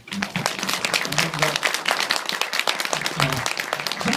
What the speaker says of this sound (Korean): 우리 소개해주신 이준익 감독님께 박수 한번.